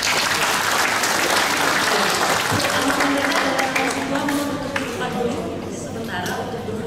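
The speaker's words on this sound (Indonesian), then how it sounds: "Mari kita berikan tepuk tangan." A seminar audience breaks into steady, fairly loud applause with some crowd murmur, gradually easing toward the end of the session.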